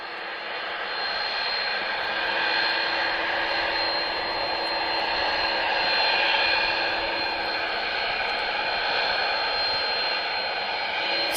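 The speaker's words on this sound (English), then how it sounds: "CF6 engine, I believe." A CF6 jet engine on an airliner at Lisbon Airport roars with a steady, loud broadband whine and hiss that swells slightly midway, with no talking.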